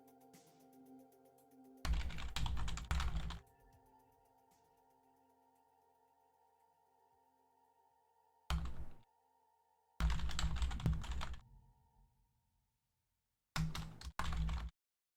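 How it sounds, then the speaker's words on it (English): Bursts of rapid typing on a computer keyboard, close and fairly quiet, come in four separate spells of one to two seconds with near silence between them, over a faint steady electronic hum. "Sorry for the typing, just trying to coordinate with these teams."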